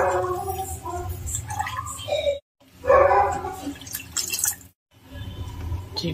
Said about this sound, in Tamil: இப்போ தேவையான அளவுக்கு தண்ணி ஆட் பண்ணியாச்சு.